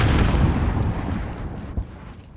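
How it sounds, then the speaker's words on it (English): Stun grenade going off in a first-person shooter video game, a loud broadband blast at the start with a rumbling tail that fades over a couple of seconds, plus a smaller pop near the end. "Stun grenade out."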